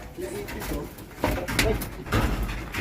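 A pigeon coos close by in low, soft repeated calls at a racing pigeon loft, over a rough, noisy background with handling sounds.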